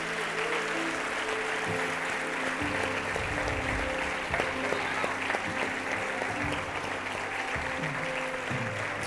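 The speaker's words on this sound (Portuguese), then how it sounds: "Eu queria que você desse um aplauso a Jesus por isso" A church congregation applauds in a steady, dense wash of clapping that runs the whole time. A voice speaks and some music plays faintly under the applause.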